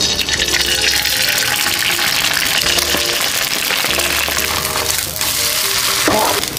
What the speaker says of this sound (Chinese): 我在这儿煎两个鸡蛋